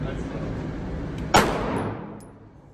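A single gunshot at a shooting target, a sharp close crack followed by a short decaying ring over a steady background hum.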